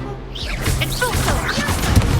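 An Expulso spell blast from Hogwarts Legacy, a loud whooshing explosion with swirling magical shimmer and a thump near the end.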